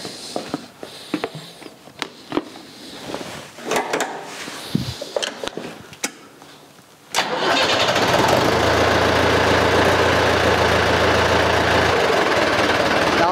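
A David Brown tractor's diesel engine cranks with clanks and knocks, then catches and roars into a loud, steady idle that holds to the end.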